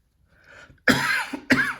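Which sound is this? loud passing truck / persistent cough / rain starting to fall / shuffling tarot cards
persistent cough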